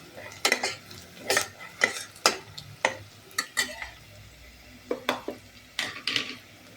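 A spoon scrapes and stirs onions frying in a pan for tomato rice, giving a steady series of sharp metallic strokes at a regular pace with a faint sizzle underneath and no talk.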